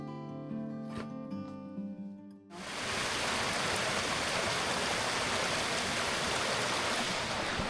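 Clear, freezing cold mountain stream on a hiking trail from Theth to Valbonë, flowing steadily with a full, loud rushing wash that fills the space and continues alone after a brief quieter stretch of faint tones.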